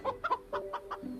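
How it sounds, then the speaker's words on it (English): A chicken in the VRChat game clucks in a quick series of short, close calls, several bursts in about a second with no talking. "A chicken just laid 2 eggs on by itself."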